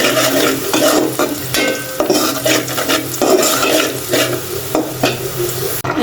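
Pointed gourd and potato pieces fry in a pan, a loud continuous sizzle with repeated stirring and scraping of a utensil against the pan throughout.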